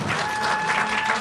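Audience applause at the Contact in the Desert 2017 conference, heard as a brief, dense burst of clapping from a crowd that holds steady throughout and sits close and fairly loud.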